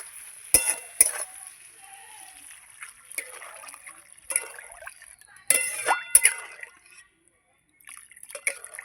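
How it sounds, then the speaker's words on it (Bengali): Water pours and splashes into a pan of bhetki fish curry in short bursts with clinks of a vessel against the pan, the bursts separated by quiet pauses. "এবার আমি জল দিয়ে দেবো"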